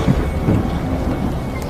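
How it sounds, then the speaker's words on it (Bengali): A low rumble of thunder with rain falling in a Bengali horror audio story, a brief muffled roll under a steady wash of rain, with no voices. "আবার বাজ পড়ল।"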